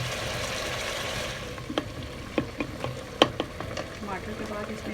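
Tomatoes softening in a hot pan for chicken jalfrezi, a steady sizzle with scattered light scrapes and clicks from stirring, close and moderately loud.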